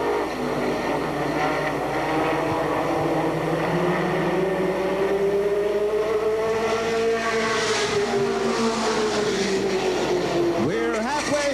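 Stock cars race around an oval track, engines droning steadily and rising and falling in pitch as cars pass, with a continuous background roar and a sharper whine near the end.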